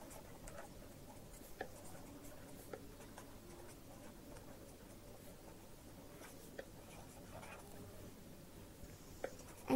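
Chalk or marker scratching on a board during a physics lecture on angular momentum, a faint steady writing patter with occasional light ticks over a quiet room hum.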